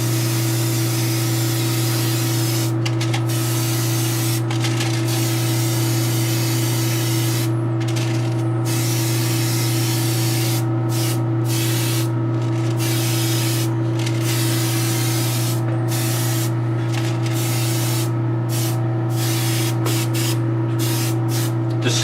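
A spray can of yellowish mustard paint hisses in long continuous bursts with short pauses between them, loud and close over a steady background hum.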